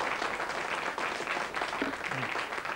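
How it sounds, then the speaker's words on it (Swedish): Sustained studio audience applause on a Swedish TV talk show, a dense, steady wash of many hands clapping close and loud throughout, with no voices over it. "tog ni upp den applåden själv eller fick ni tecken?"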